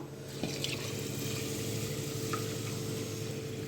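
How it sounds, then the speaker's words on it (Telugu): Water runs steadily into a pot of soaked rice for chicken dum biryani, a continuous splashing rush with a small knock early on. "ఇవి దీంట్లో వాటర్ వేసేసుకుని అలా ఉంచుకుందాం"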